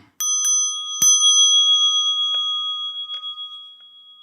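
A small bell rings during a Buddhist meditation, several bright metallic strikes in quick succession followed by a long clear ringing decay, close and alone with no speech.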